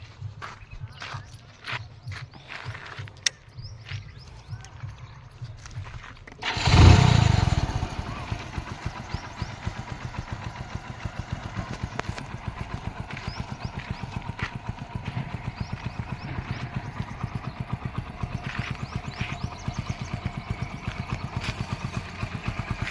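Quiet background, then a 2018 Hero Splendor Plus BS4 motorcycle engine abruptly starts with a loud burst and settles into a steady, close, putting idle that continues to the end.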